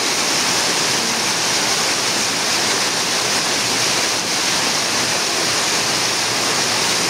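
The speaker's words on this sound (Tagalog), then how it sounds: "pag malakas yung ulan, ganyan, dumaragas yung tubig galing doon sa highway" Heavy rainwater rushing down from a highway in a strong downpour, a loud, steady roar of torrential flowing water filling the whole scene without a break.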